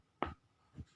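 Pen or pencil writing an answer by hand on paper, two short scratchy strokes, close and quiet.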